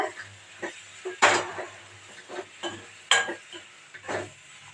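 A spoon stirs a capsicum and egg mass in a pan, giving several separate scraping clinks and knocks against the metal at an uneven pace, up close, with no talk.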